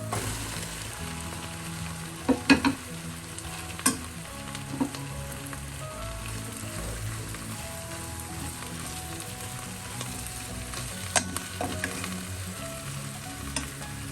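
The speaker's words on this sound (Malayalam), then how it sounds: "ഈ സമയം നമുക്ക് അതിന് വെച്ചിരിക്കുന്ന ഉള്ളി ചേർക്കാം" Onions frying and sizzling steadily in a pan for chicken curry, with a constant crackle and several sharp scrapes and knocks of a stirring utensil against the pan, close and alone.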